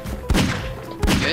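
Two heavy booming bomb blasts in Garry's Mod, about a second apart, punch through a noisy background, each with a sharp attack and rumbling tail.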